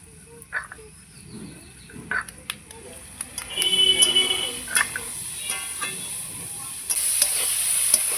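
Curry of fish, green banana and potato frying in a pan, scraped and stirred at intervals, with a soft sizzle underneath and occasional clinks of the spoon against the pan.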